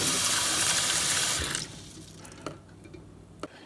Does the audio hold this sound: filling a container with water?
yes